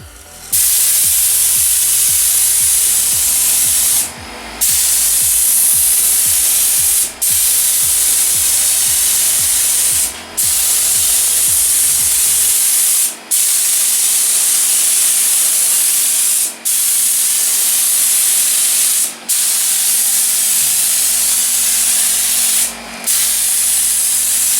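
A compressed-air spray gun lays metallic paint onto a car's rear quarter panel in a body shop, a steady loud hiss in long passes broken by brief pauses, with a low mechanical rumble beneath early on.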